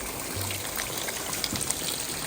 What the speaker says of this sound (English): You see how I'm putting water on and it's immediately coming out the bottom?